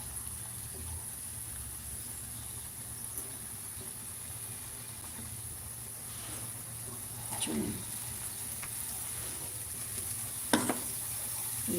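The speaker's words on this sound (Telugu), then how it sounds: "ఇప్పుడు నేను ఈ ఉసిరికాయ పేస్ట్ ఉంది కదా అది కూడా వేసి కొద్దిగా వేయించేసుకుంటాను" Ground amla (Indian gooseberry) paste fries in a pan for amla pulihora, making a steady low sizzle with a faint hum. Occasional soft stirring scrapes come near the end.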